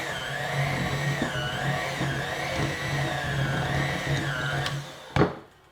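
An electric hand mixer with beaters whirs steadily through peanut butter cookie dough, its motor pitch wavering slightly as the dough is worked, then a clunk as it stops near the end.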